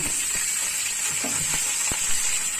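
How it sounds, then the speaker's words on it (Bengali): Sliced pointed gourd and potatoes frying in a wok with nigella seeds, a steady close sizzle with a few soft knocks and stirring scrapes, no talk. "তারপর কেটে রাখা পটলগুলো ভাজতে দিয়ে দেবো।"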